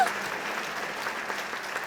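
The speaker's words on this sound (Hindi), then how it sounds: "तालियां!" Applause from a group of people, a steady broad patter of clapping at moderate loudness that holds evenly from start to finish without talk.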